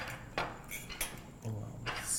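Metal cutlery clinks against a plate in a few sharp, close taps spread over a couple of seconds, with brief pauses between strikes and no talking.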